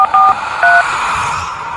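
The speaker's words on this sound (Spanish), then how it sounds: "en el teléfono de Oscar suena como si marcaran desde el otro lado de la línea" Touch-tone telephone dialing heard down a phone line: three quick loud DTMF beeps in a row, then a fading hiss of the open line.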